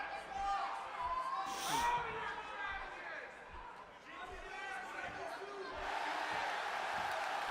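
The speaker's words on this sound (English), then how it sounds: "Listen to the support of the crowd here in attendance." Arena crowd in the WWE 2K18 wrestling video game, a steady mass of chatter and cheering with occasional whoops, filling the space continuously and swelling louder toward the end.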